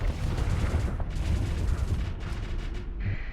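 A ship's beam weapon fires in a Starsector space battle, giving a continuous dense roar with rumbling bursts that hold steady throughout and then thin out near the end, with no talking over it.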